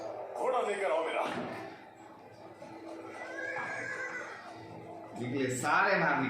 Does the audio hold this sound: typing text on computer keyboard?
no